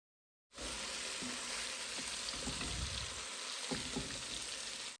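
Fish sizzling and frying in a pan with tomato added, a steady close crackle of hot oil with a few sharper pops and stirring scrapes, no voices.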